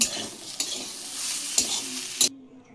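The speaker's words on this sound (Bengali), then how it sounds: "কচু পাতাগুলোকে একটু নেড়ে চেড়ে নামিয়ে ফেলবো" Taro leaves stir-fried in a pan, a close, steady sizzle broken by three sharp spatula scrapes, then cutting off abruptly into near silence.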